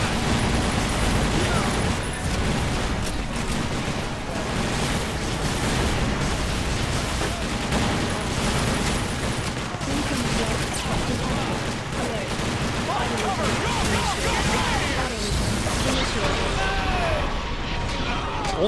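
Plasma cannon blasts in the video game TimeShift, a dense, continuous barrage of loud weapon fire and explosions filling the whole stretch alongside other battle noise, with no clear gaps.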